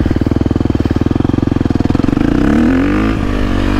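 KTM 350 dirt bike engine, a loud, close, rapidly pulsing four-stroke thump that smooths into a rising rev as the throttle is gently rolled on in second gear.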